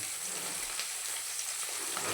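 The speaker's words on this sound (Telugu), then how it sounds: "చేపలను బాగా కొంచెం ఫ్రై చేసేసుకుంటే బాగుంటాయి అన్నమాట." Dried fish frying in oil in a pan, a steady close sizzle and crackle that runs unbroken throughout with no voices.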